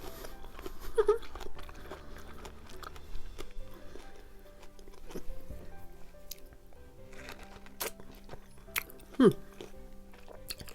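Japanese kumquat eaten whole with its sweet edible peel, producing wet bites and squishy chewing close to the mic, with a couple of sharper crunches and someone speaking in between.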